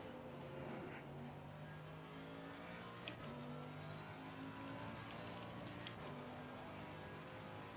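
GT race car engines in the Assetto Corsa Competizione racing game at Paul Ricard, a Lamborghini, Mercedes and Porsche field, make a steady, faint, continuous engine drone with slight pitch shifts throughout.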